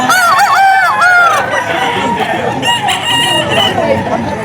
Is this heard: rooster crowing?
yes